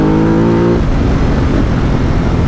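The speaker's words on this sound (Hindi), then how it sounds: "Let's talk about this Ducati Multistrada 1200S with full system titanium exhaust." Ducati Multistrada 1200S motorcycle with a full titanium exhaust system, engine running loud and close with a steady rumble that settles after an initial tone, with no talk.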